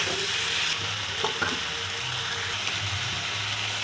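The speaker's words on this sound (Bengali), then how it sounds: "হলুদ দিচ্ছি নেড়ে ফেটে দেবো এটা আমি লো ফ্লেমে করছি" A pan of frying food sizzles on a low flame as turmeric is stirred in, a utensil scraping and tapping against the pan under a continuous hiss; nobody talks.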